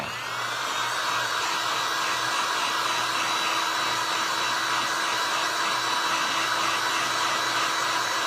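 A hair dryer blows steadily on wet paint on a painted paintbrush craft piece, a loud, constant whooshing whine that stays close and unbroken throughout.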